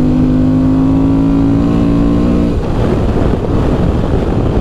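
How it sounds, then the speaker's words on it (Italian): A Honda Transalp XL 750 motorcycle with its stock exhaust revs loud and close. The engine holds a steady tone, then turns rougher and more broadband as the throttle changes. "Questo motore che urla tantissimo anche con lo scarico originale"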